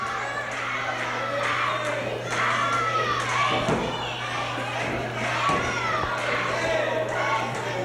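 A large crowd at a Southwest Championship Wrestling event in 1983, a steady roar of shouting and cheering spectators with occasional thuds from the ring beneath it.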